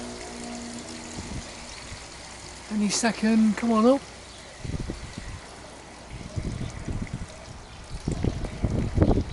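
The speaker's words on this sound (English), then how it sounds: "Upstroke coming, lifting the water up." An outback hand pump works water up from a borehole, with creaking metallic strokes and splashing, trickling water arriving in bursts while people talk nearby.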